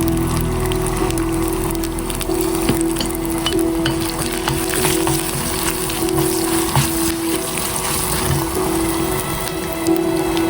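Asafoetida frying in oil as a tempering for curd rice, giving a steady, close sizzle with light crackles and a faint hum that lasts the whole stretch, with no talking.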